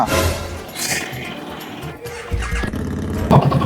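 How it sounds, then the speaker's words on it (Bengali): A worn-out car engine cranks repeatedly without catching, a rough, uneven churning that rises and falls close by, with a louder clunking burst near the end. "ঠিকই তো স্টার্ট হচ্ছে না ইঞ্জিন পুরো শেষ"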